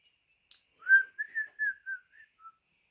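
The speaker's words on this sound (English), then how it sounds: "Can you do a fun whistle for us" A person whistles a short playful tune, a string of about seven clear pitched notes with small slides, close and alone against silence.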